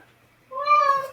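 A domestic cat meows once, loud and close, a drawn-out tonal cry rising after a brief quiet moment indoors.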